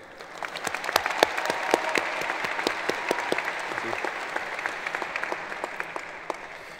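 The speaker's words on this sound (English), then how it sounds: "let's all give a big round of applause for finally making it here today" Audience applause at a high school graduation ceremony, a dense crowd of clapping with many sharp individual claps standing out near the front, building then holding steady and slightly fading at the end.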